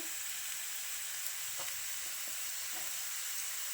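Onions frying in a pan with turmeric give a steady, hissing sizzle, close and even throughout, with a few faint stirring knocks and no talk.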